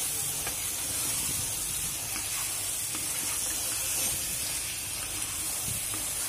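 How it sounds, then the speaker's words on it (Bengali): Chewa fish with spices is stirred in a hot pan, giving a loud continuous hiss and sizzle with faint scraping, steady throughout and without speech. "মাছগুলো দেওয়ার পর ভালো মতো নেড়ে চেড়ে নিতে হবে"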